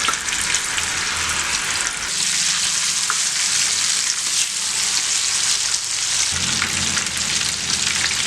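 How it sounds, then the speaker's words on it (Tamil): Fish pieces fry in hot oil for fish biryani, giving a dense, bright, continuous sizzle close by, with crackling pops throughout and a faint low rumble beneath. "இப்போ ஒவ்வொரு மீனாக போட்டு நம்ம பொரிச்சு எடுத்துடலாம்."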